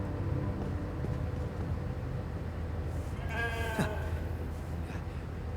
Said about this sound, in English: Talk to the sheep.